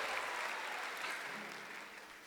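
A live audience claps and cheers on request, a steady wash of applause with mixed voices held at a fairly faint, distant level for a couple of seconds.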